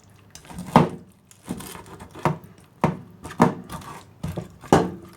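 A knife cuts through a tilapia on a cutting board, making six firm, evenly spaced chopping thuds, close and fairly loud with short pauses between strokes.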